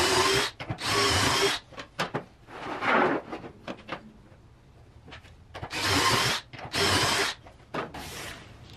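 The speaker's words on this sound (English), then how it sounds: "I use the drill bit and drill down and get my perfect 3-inch hole each time" A power drill with a bit bores a 3-inch hole through a wooden board, cutting in loud bursts of high whining and grinding, separated by short pauses and softer scraping.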